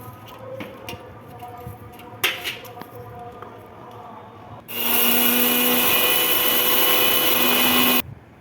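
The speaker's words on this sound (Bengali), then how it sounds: "এবারে মশলাটা বেটে নেব মিক্সিতে" An electric mixer grinder whirs loudly and steadily for about three seconds as it grinds spices for mango pickle, following some quieter kitchen handling noises, then cuts off abruptly.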